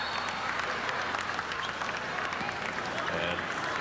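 An arena crowd at a 1995 PBA All-Star basketball game cheers and claps steadily in a broad, sustained roar, with a commentator talking over it.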